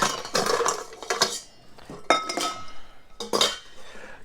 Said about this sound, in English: let's scoop her up. Let's fill up with some ice